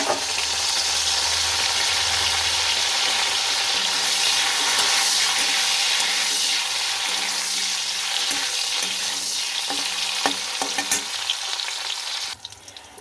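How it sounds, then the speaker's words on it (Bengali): Lentil dumplings (bori) frying in hot oil, a steady, close, continuous sizzle lasting throughout with occasional stirring clicks and no talk. "এবার আমি বড়িগুলো ভেজে নেব এই তেলে।"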